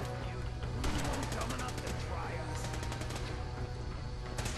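Rapid automatic fire from a new weapon in Fallout 4 comes in dense close bursts, backed by a steady game soundscape and a talking voice.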